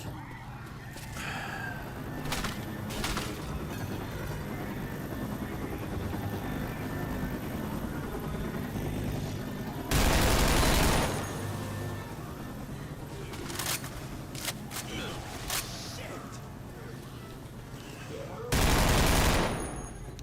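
Rifle gunfire in the zombie shooter Left 4 Dead 2: two loud sustained bursts of rapid shots stand out over a busy game soundscape, with a few scattered single cracks between them.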